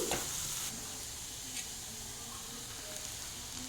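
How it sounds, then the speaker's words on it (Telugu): Chopped carrot, capsicum and green chilli fry in a pan, a steady moderate sizzle with a few soft stirring scrapes and light clinks. "ఇప్పుడు క్యారెట్ క్యాప్సికము పచ్చిమిర్చి వేస్తున్నాను చిన్నగా కట్ చేసి పెట్టుకొని వేసుకొని వేయించుకోవాలి"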